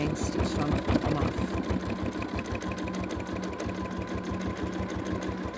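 A sewing machine runs steadily, stitching down pieces of a collage quilt, its needle tapping in a fast, even rhythm close up for several seconds with a low motor hum underneath.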